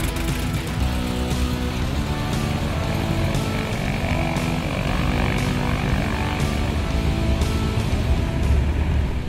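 Propeller engines of several RV kit planes of various models drone steadily, loud and continuous, with a slight pulsing as the formation passes overhead during a civilian formation flying clinic.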